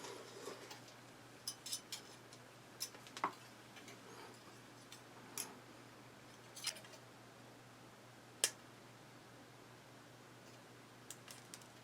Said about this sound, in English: You can cut this with a pair of scissors, eh?